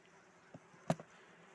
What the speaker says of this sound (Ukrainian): Бджоли спокійні, бджоли карника.